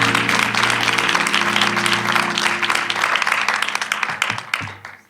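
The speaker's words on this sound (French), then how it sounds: "Cher public d'Encore Heureux, merci d'applaudir Claire Selma Aytou" Audience at the Encore Heureux show applauds Claire Selma Aytou as she is introduced: dense, sustained clapping from a crowd that holds steady for several seconds, then thins and fades at the end.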